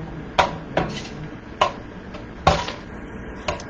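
A utensil clinks and scrapes against a dish while keto mac and cheese is mixed with a sauce of three cheeses and butter, producing about six sharp, evenly spaced knocks, close and clear.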